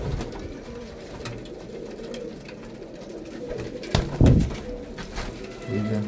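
A pigeon gives low, throaty coos nearby with a sudden louder flutter midway, over a quiet background hum and with no talking.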